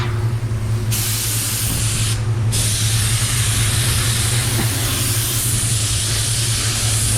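Spray gun applying a transition coat of paint, a loud, steady hiss of atomized spray running continuously close by, briefly pausing twice, no talk.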